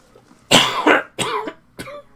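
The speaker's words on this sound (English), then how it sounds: "Oh, what a cough." A person coughs three times in close succession, harsh and near, each burst shorter than the last, with no speech around them.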